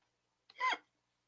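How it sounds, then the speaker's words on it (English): A single sharp hiccup bursts out in an otherwise quiet room, brief and fairly close, with a short voiced catch after the initial click. "Sorry, I got hiccups."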